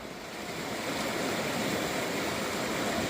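Steady, full-bodied rush of water flowing downhill in a river at Golden, Colorado, continuous and fairly close, with no breaks or voices over it.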